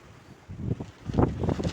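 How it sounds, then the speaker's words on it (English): Strong gusts of wind in a rainstorm in Spain buffet the microphone, rising into a loud roaring rush with rustling noise, swelling unevenly over a couple of seconds. "Those are some huge gusts of wind now."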